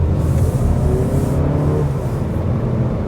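A 2024 Mazda3 2.5 S sedan accelerates while merging into traffic, its engine note rising and droning steadily from the cabin, loud and continuous with road and tire noise beneath.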